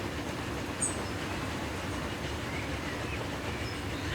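A train in Transport Fever 2 runs along an elevated railway, giving a steady, even rumble with a constant wash of noise and a faint brief high squeal, with no talking.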